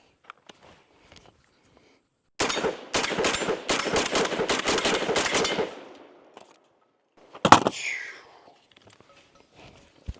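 Rapid burst of roughly ten to twelve loud shots from a Genesis Gen-12 10.5-inch short-barreled shotgun firing reduced-recoil double-aught buckshot, followed by a few seconds of quiet and then one more sharp blast.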